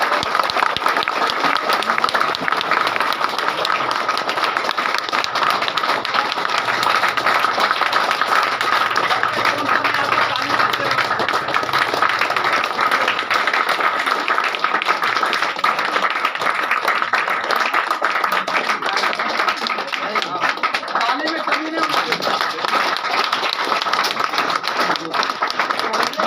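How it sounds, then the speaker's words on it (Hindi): A seated audience at a rural business event breaks into loud, sustained applause, dense steady clapping filling the room evenly for the whole stretch without a pause. "एक बार जोरदार ताली"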